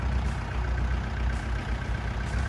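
A used Kubota L4708SP four-wheel-drive tractor, fitted with a front dozer blade, runs with a steady low diesel rumble, idling evenly and continuously at close range with no speech.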